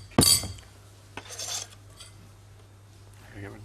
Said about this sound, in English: I'm just going to scrape this into the bowl.